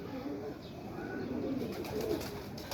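Soft, low pigeon cooing close by, repeated murmuring coos over a steady background hum with no talking.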